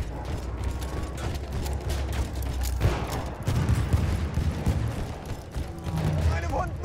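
Tank in the game Battlefield 1 rumbles close by, a heavy low engine drone under constant clanking, ratcheting track and gear noise, with scattered bursts of distant gunfire.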